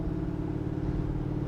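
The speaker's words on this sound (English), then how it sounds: "Exhaust sounding good" Big block 1970 Chevrolet Nova Yenko tribute idling with a steady, deep rumbling exhaust, close and continuous with no talk.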